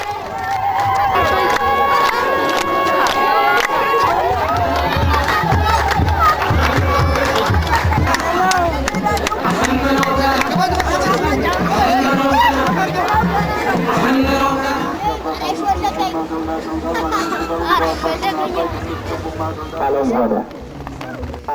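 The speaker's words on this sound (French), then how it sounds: "La procession est bientôt envahie par les chants de la foule dansante" A dancing crowd sings loudly in an Ethiopian Timkat festival procession, with many voices chanting together in a dense rhythmic mass, festive chatter and movement throughout, and a brief dip near the end.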